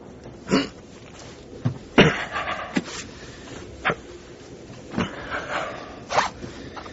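A bag is unzipped and opened in a radio drama of From Russia with Love, with several close zipper rasps and rustling handling noises spread over a few seconds, no talk.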